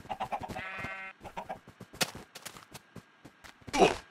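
A black sheep in the video game Minecraft bleats once in a short buzzy call amid excited talking, gameplay clicks and a loud burst near the end.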